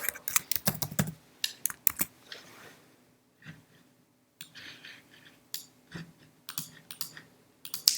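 Typing on a computer keyboard on a Mac, close sharp key clicks in quick irregular bursts separated by short pauses.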